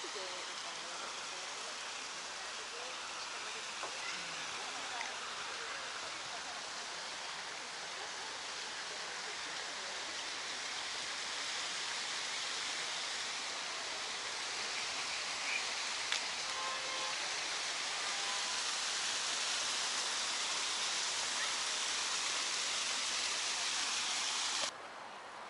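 A waterfall in a park in Budapest pours steadily nearby, a constant broad hiss of rushing water that holds even and unbroken throughout.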